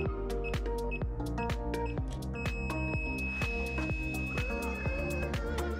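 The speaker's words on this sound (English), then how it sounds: "Once the wheel starts doing that really long beep, it's okay to turn the wheel off." A Gotway/Begode electric unicycle beeps repeatedly and rhythmically at power-on during calibration, close and clear. Near the end one long sustained tone sounds over the pulsing beeps.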